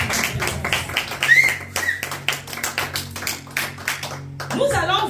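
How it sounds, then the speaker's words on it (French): A church congregation claps in fast, even rhythm, loud and close, with a low voice and some music faint underneath. "Acclamez pour votre présence ici."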